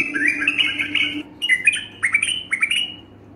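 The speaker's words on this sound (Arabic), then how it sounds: "هذا راح اخلي بيه اصوات مال البلبل" Recorded bulbul song played back for a caged pet bulbul: bright, close chirps and warbled phrases, a continuous run followed by short bursts of repeated notes, with no voices.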